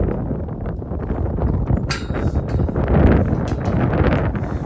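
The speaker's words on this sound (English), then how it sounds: "the wind's blowing so dang much" Strong wind buffets the microphone in a loud, continuous rumble, with gusty surges and a few sharp knocks.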